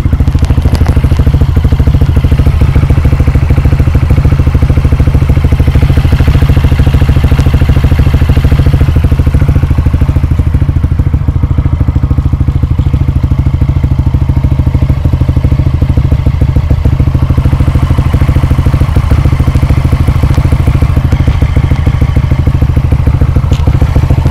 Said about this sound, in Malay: saya punya mic dekat saya punya enjin supaya korang boleh dengar bunyi dia lembut sangat